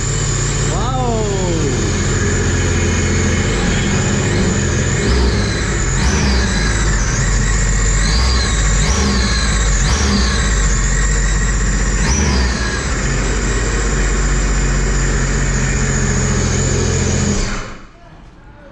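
A JP Racing Stage 1 RXT 300 watercraft engine runs steadily and loudly close by, with pitch swoops and revs partway through, then cuts off near the end.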